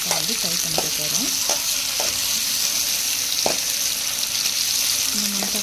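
Green chillies, garlic, cumin, onion and tomato fry in hot oil, a steady loud sizzle with occasional stirring clinks and scrapes of a spoon against the pan.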